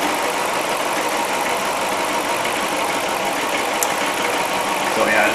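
A Jeep Commander engine idles with a dead cylinder misfire, a steady, dense mechanical rumble heard close and loud, holding even throughout with no talk.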